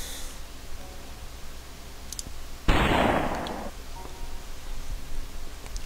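A single sharp gunshot in the video game The Shivah, a loud close burst of about a second that decays quickly, preceded by a couple of faint clicks and followed by a low room hum.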